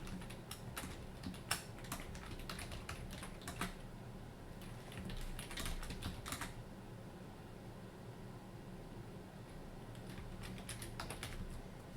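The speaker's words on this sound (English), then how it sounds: "Type up the light side list." Quiet, steady typing on a computer keyboard, with soft key clicks coming in irregular runs and short pauses over a faint background hiss. No one speaks.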